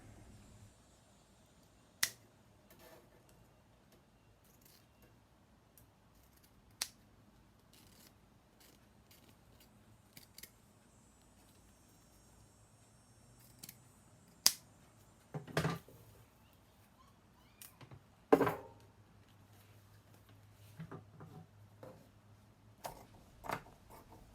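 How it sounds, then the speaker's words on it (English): Scissors cut along the seams of an old lampshade in sparse, isolated snips, with sharp clicks separated by long quiet gaps and a short low rumble near the end. "you can cut along those seams very carefully"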